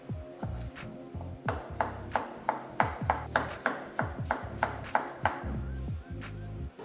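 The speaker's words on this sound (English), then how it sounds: "Chopped tomatoes." Tomatoes are chopped on a board for Turkish lahmacun, a knife striking in a brisk, steady rhythm of about twenty close cuts, with a low droning hum behind.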